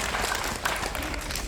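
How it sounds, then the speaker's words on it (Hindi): An audience claps together at a spiritual talk, a steady, moderately quiet patter of many hands with no pauses. "लेकिन ताली तो बजाओ।"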